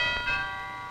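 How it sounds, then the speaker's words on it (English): A single bell-like chime rings and sustains briefly with bright overtones, fading over about a second with no voices. "That's the doorbell."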